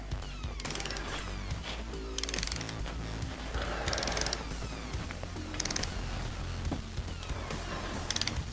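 A torque wrench ratchets and clicks while tightening valve cover bolts on a Polaris Sportsman 700 ATV engine stroked to 800cc. Repeated rhythmic bursts of metallic ratcheting play over a constant low mechanical hum, close up.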